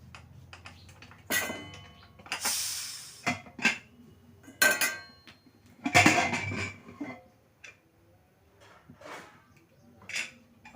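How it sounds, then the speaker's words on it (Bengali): Close metallic clinks and clatters from a pressure cooker lid being worked open after cooking jujube pickle, with a few short bursts of hissing between quieter pauses. "প্রেশার কুকারটা খুলে নিই"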